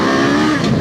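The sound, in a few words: Kawasaki KLE500 motorcycle engine revving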